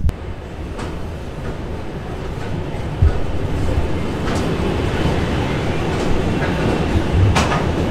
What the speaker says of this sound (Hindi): यहाँ पर अंधेरा हो चुका है और ये आ गई अपनी ट्रेन